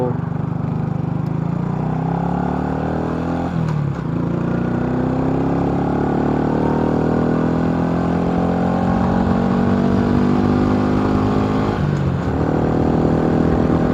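A motorcycle is ridden hard in third gear at about 120, its engine droning loud and close with rising pitch sweeps as it accelerates, and wind rushing heavily over it, without talking.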